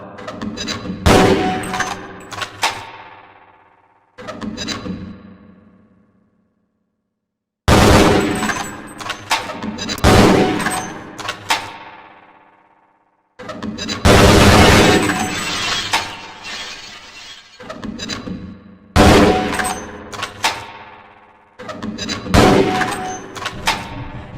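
Gunfire and grenade blasts at a target range in the video game Half-Life: Blue Shift, loud repeated bursts of shots and explosions with shattering, ringing decays and brief silent gaps between volleys.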